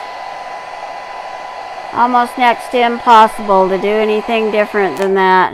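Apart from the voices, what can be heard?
blow dryer running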